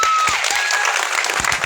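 An audience at a stage event bursts into loud, continuous applause, a thick wash of clapping hands with a thin electronic whine briefly audible above it.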